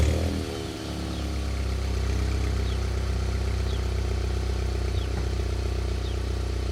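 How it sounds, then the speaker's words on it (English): A car engine catches on a start, flaring briefly, then settles into a steady, loud idle with a low, even rumble that continues close by. "Let's get the cold start popping."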